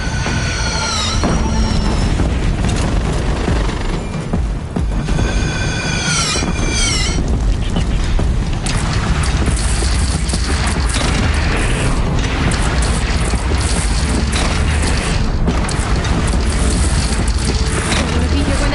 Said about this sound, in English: Take up a cannon!